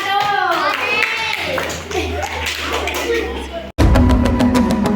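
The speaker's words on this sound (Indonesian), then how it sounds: "tepuk tangan untuk kelompok 1" Classroom of children clapping for group 1, bursting in loud and rhythmic after a pause, with a voice and talk heard beforehand.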